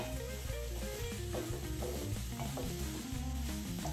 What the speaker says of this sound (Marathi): सारण आता व्यवस्थित आपण मिक्स करून घेऊया।